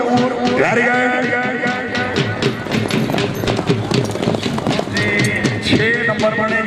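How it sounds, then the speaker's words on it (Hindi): Horses gallop with rapid clip-clop hoofbeats at an outdoor tent pegging competition in a Pakistani bazi event, with a neigh and an announcer's voice talking loudly throughout. "पहली पट्टी पे घोड़ा नूर वेरी गुड"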